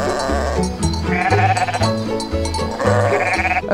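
Black karakul sheep in a flock on pasture in the Odesa region bleat loudly and close, overlapping drawn-out calls one after another with no gaps, with no one talking.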